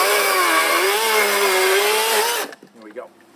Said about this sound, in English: I'm using this little electric chainsaw to finish them up.